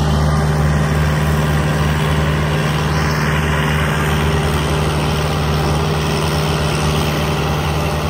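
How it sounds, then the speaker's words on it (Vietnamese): Several tractors ploughing a rain-soaked rice field in the Vietnamese countryside, a steady loud close engine drone with deep low rumble running continuously throughout, no voices. "Thì sáng bên đây cũng có mấy chiếc máy cày đang xới đất này."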